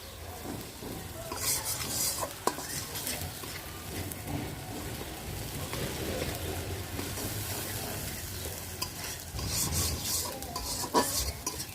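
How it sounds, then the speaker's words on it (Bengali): Turmeric and chili powder spices sautéing in a pan for a spinach and prawn dish, a steady scraping stir over low sizzle throughout, with a few sharper rasps near the start and end. "মশলা ভালোভাবে কষানো হয়ে গেছে।"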